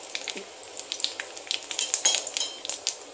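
Curry leaves crackle and sizzle in hot oil in a pan, with rapid irregular pops and spatters, close and fairly quiet.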